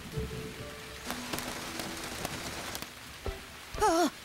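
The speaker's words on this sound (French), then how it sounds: "Oh, il pleut dehors." Rain falls outdoors in a soft, steady patter that runs the whole time, with a few light knocks along the way. Near the end a bright, wavering chirpy tone rises over it.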